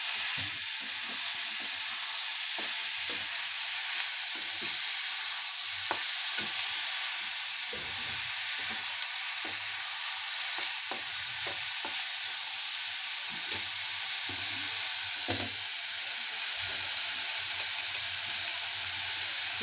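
Spicy tomato chutney fries in a pan, giving a steady, bright sizzling hiss with faint scattered pops and occasional soft stirring scrapes, constant and close throughout.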